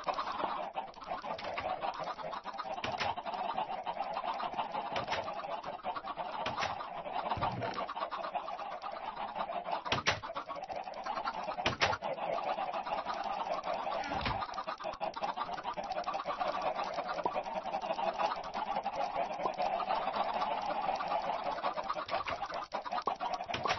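Chickens in the Minecraft video game cluck and chatter steadily, with short sharp scratching clicks scattered across the continuous flock noise.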